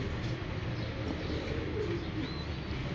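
A pigeon coos softly on a rooftop loft, a low murmuring call heard faintly under steady outdoor background noise.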